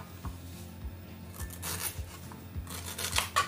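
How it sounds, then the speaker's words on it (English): A knife working through fresh ginger, faint scraping and rasping cuts with soft knocks on the board in an uneven rhythm, heard up close and alone. "I'll cut the ginger."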